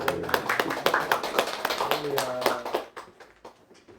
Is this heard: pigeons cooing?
no